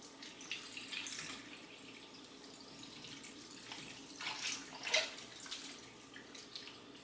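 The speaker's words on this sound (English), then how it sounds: "add in that broth that I made out of the aminos" Homemade broth poured into a pot on the stove, a soft continuous watery splashing and trickle heard close and fairly quiet, swelling briefly near the middle.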